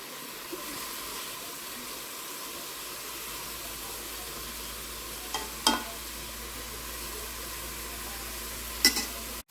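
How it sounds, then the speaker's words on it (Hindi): Masoor dal fries in oil in a pan, a quiet steady sizzle running under a couple of brief scraping stir sounds, with no one talking. "ये दाल को भी हमने तकरीबन 2 मिनट ऐसे उसी ऑयल में फ्राई किया"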